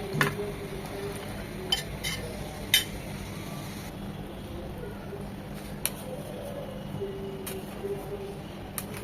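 Fried paneer cubes go into a cooked masala paste with oil separating in a pan, followed by steady stirring and faint sizzling, with a few sharp spoon clinks against the metal.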